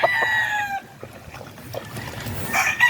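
Breeding roosters and hens crow and cluck nearby, a drawn-out crow at the start followed by scattered clucks and another sharp call near the end over quiet farmyard background.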